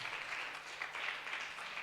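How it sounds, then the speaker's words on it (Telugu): A church congregation claps together in a continuous, even wash of many hands. The sound is faint and distant and carries on without pause for about two seconds. "చప్పట్లు కొట్టి దేవుని మహిమపరుస్తాం."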